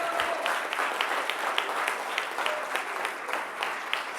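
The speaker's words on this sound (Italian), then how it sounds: "Facciamo un bel applauso" Steady applause from a studio audience on an Italian sports television broadcast, dense, even clapping that holds throughout at moderate distance with no talking over it.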